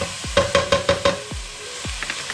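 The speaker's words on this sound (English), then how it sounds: "I'll just braise the onions like this" Onions braise in olive oil in a pan, giving a soft sizzle broken by a short run of about five evenly spaced metallic taps and clinks, with a few low thuds afterwards. No one speaks.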